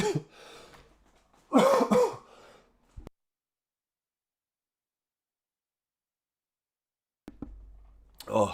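A single loud, close cough from a streamer watching a Liverpool versus Manchester City Premier League match, followed by a short burst of throaty sound, then a long silence before faint noise returns.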